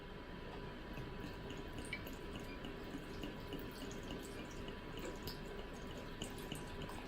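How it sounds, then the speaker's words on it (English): Tap water runs steadily onto Huel flakes in a bowl, a continuous close splashing pour with small drips, no talking over it. "There's a lot of water coming out of here."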